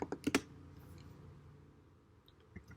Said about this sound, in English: now I'm going to type in monarch butterfly